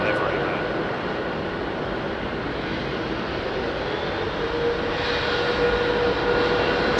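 An Air India jet departs London Heathrow runway 27R with a steady, fairly distant engine roar and a thin whine, under a voice talking.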